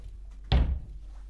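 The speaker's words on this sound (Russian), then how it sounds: "Дверь в прихожую можно закрыть." A hotel room's hallway door swings shut with a single solid thud and latch, close and fairly loud, followed by quiet room tone.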